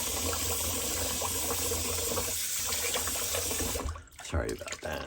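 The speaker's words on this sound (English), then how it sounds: "I don't like to excessively run the water because on camera it sounds nasty" Tap water runs steadily at a sink while shaving gear is prepped, a broad close hiss that cuts off near the end, leaving brief handling noises.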